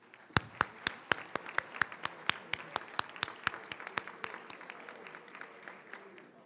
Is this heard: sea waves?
no